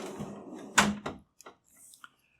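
A tool box drawer slides open with a short rumbling roll, followed by a sharp clunk and a few lighter clicks as it settles.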